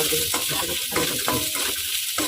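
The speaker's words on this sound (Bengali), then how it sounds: "লবণ দিয়ে একটু ভাজা ভাজা করে নেবো" Dhandal greens frying with salt in a pan, a dense continuous sizzle with a few soft stirring scrapes, close and loud throughout the short stretch.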